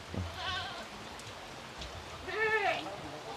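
A goat bleats twice beside a house in a Sundanese village during heavy rain, a short call followed by a louder, longer one over a steady wash of rainfall.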